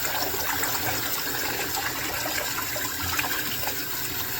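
Hot tap water runs continuously into a dishwasher to melt grease, a steady close splashing rush with no breaks.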